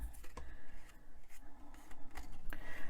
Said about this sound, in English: I'm going to take my little flaps and I'm going to fold them in